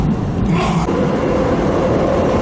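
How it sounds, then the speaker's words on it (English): A TriMet MAX light rail train runs on its own right of way, producing a loud, steady rumble and wheel roar heard from on board with a brief hiss near the start and no voices. "So now the train has its own right of way and we're following the route of I-84"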